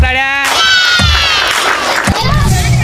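Children at a school outdoor ring game shout and cheer for three winning girls, loud excited voices with a few thumps in a short, lively burst.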